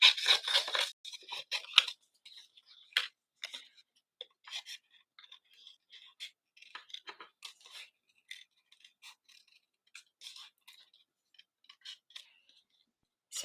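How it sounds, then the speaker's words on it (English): Small craft scissors fussy-cutting cardstock for handmade card making, a series of crisp, close snips in quick irregular bursts with brief pauses, fairly quiet and heard alone. "I'm moving my cardstock around and that helps with that fussy cutting"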